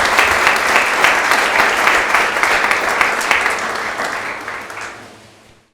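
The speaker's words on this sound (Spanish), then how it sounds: "¿Le damos un aplauso a Dios?" A church congregation applauds together, a dense burst of clapping that stays loud for several seconds, then thins and fades away to silence.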